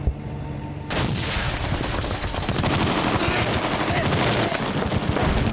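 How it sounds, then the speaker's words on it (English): Heavy gunfire erupts in a battle in Afghanistan: after a brief quiet moment, dense, loud bursts of shots crackle continuously and overlap, some close and some more distant. "After a couple of hours, we came under heavy enemy fire."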